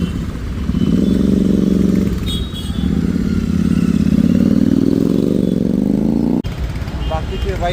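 Motorcycles from a Suzuki bike rally in Nashik ride off together, a loud, sustained engine drone rising in pitch as they pull away, with a brief cut near the end and a voice talking over it.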